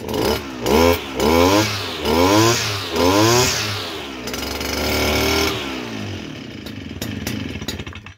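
A small two-stroke brushcutter engine is run to warm up while its idle is being set, revving in four loud surges, then settling into a rough, uneven buzzing idle that starts to falter close by.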